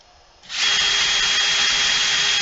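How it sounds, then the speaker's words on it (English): A power drill spins up after a quiet moment and then runs steadily at full speed, a loud, close, continuous whine with a constant pitch that holds to the end. "Turn on your drill for a second."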